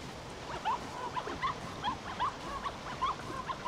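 A dog in The Cave video game whimpering in short, high, rising whines, repeated about every half second in a steady run, fairly faint and close, with no talk over it.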